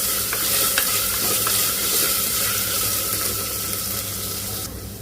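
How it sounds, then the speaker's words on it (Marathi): Chopped onions and chillies stir-fried in a pan until golden, a loud continuous close sizzle with soft scraping of the spatula throughout and no voices. "कांदा छान असा गोल्डन कलर येईपर्यंत परतायचा आहे."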